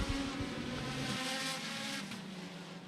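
Roadster race cars on the Potomac Speedway dirt track, a bunched pack of engines droning and buzzing steadily at moderate distance, fading slightly as they pass.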